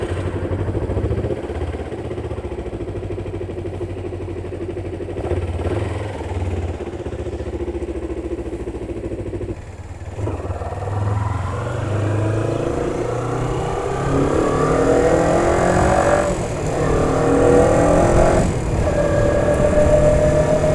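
A Kawasaki ZZR250 motorcycle is ridden on a test run after repair, its engine a steady, smooth drone that climbs in pitch as it picks up speed, mixed with road and wind noise.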